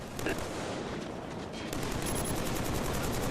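Gunfire from the shooter game Killzone 3, a dense continuous barrage of rapid shots filling the whole stretch at steady loudness with a faint voice underneath.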